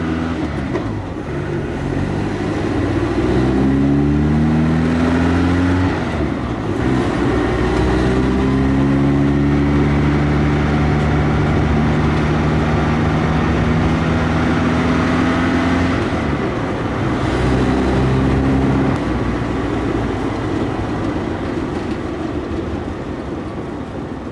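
A 1977 Chevrolet Chevette being driven, its small engine droning loud and close as it revs up through gears, pitch climbing and dropping with each shift, no talk over it.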